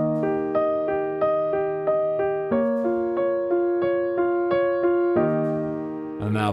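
Piano plays the intro of a pop song, with steady, evenly spaced chords and melody notes repeating in a clear pop rhythm, close and alone, ending on a held chord.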